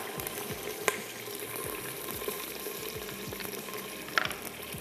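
Chicken and browned onions fry in a clay pot for matka gosht, a soft steady sizzle with frequent quick stirring scrapes and a couple of sharper clinks.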